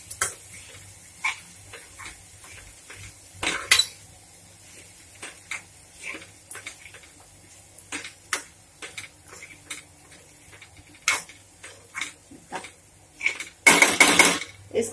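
Washed poha is mixed in a pan with lightly roasted turmeric, heard as a series of scattered metallic taps and clinks of a spoon against the pan, mostly quiet between strikes, with a louder burst of scraping near the end.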